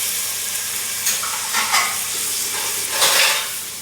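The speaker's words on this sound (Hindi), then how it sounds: "प्याज जो है हमारे थोड़े से ब्राउन होना शुरू हो गए हैं, तो अभी हम लोग इसके अंदर ये कटा हुआ टमाटर और ये जो हमारा है ना पेस्ट भी हम डाल देंगे" Chopped tomato and paste hit browning onions in a hot pan for spinach and potato sabzi, giving a loud, steady sizzle with a few stirring scrapes and bursts of spatter, no voices.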